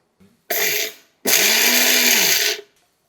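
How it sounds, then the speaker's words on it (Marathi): A kitchen mixer grinder coarsely grinding a roasted pickle spice mix, with a short loud whirring burst, a brief pause, then a longer burst of about a second and a half, close and dominant. "आता मिक्सरमध्ये याची भरड काढूयात"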